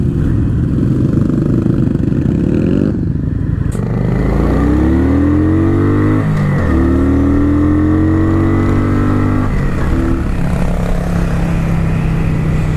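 A motorcycle passes during a group ride, its loud engine close by and droning steadily, then its pitch rises and falls through gear changes over constant wind rush, with no talk.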